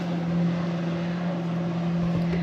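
Jet skis speeding past anchored sailboats off Moreton Island, a steady droning engine whine with a constant tonal hum, holding at moderate loudness throughout.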